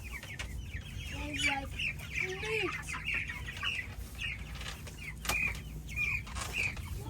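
Hens cluck and chatter in a chicken coop in a steady, busy layer of sound, with sharp squawks rising now and then and wings flapping. A person speaks briefly in the middle.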